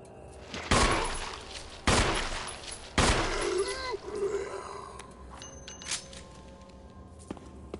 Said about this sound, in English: Shooting off screen then.